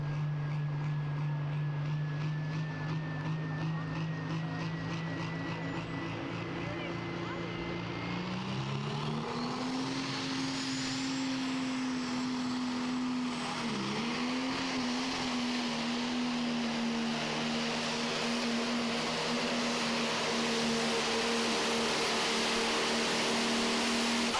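A loud, sustained pro stock pulling tractor engine roar at a tractor pull in Goshen that drones steadily, shifts pitch upward partway through, then holds a high revving tone.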